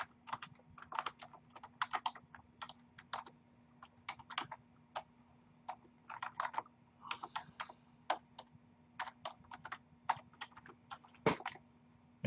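Close, quiet keystrokes on a computer keyboard as C code is typed, coming in quick irregular bursts of clicks with short pauses and a faint steady hum underneath.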